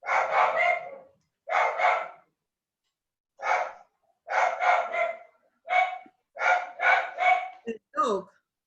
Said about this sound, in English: The dog barking loudly.